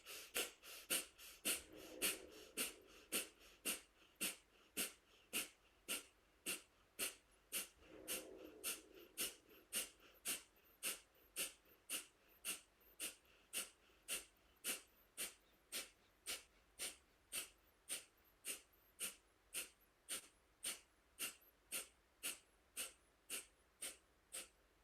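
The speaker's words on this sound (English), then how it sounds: "So breath of fire, arms up, thumbs out, breathe in, and then breathe out quickly." Breath of fire, done with arms raised and thumbs out: a long, steady run of rapid, forceful exhalations through the nose, evenly spaced and close, with no talking.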